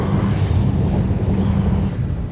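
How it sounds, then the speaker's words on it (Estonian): Light waves on the open sea in shallow water about eight metres deep, heard from a boat as a steady wash and slosh mixed with heavy wind buffeting on the microphone, continuous and close. "Natuke kerge lainetus on"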